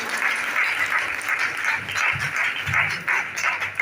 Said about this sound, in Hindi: हम खुदा की खादमा को मिसेस शमीर अब्दुल नजूर को भरपूर तालियों में वेलकम करेंगे